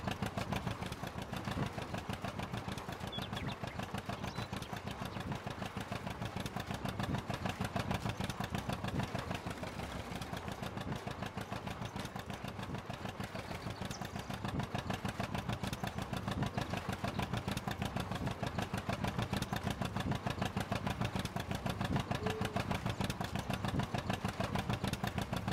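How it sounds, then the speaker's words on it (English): An Allis Chalmers tractor engine in Farming Simulator 19 runs steadily at a constant chugging idle-to-working throttle, loud and continuous throughout with no talk. "Oh yeah, you get that tractor working there now."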